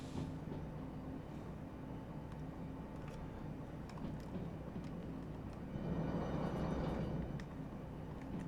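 A heavily loaded train in the Derail Valley simulation rumbles steadily, with a dense low drone and a swelling, harsher surge of strain near the end.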